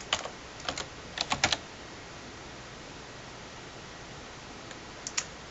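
Computer keyboard typed on in short bursts, a quick cluster of crisp clicking keystrokes near the start, then a long pause of faint hiss and two final taps at the end, no voices.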